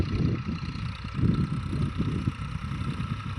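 A tractor engine runs on a village farm in Banaskantha, Gujarat, giving a close, low, throbbing rumble that pulses steadily throughout.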